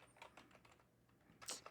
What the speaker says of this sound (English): I hate typing on these PC keyboards.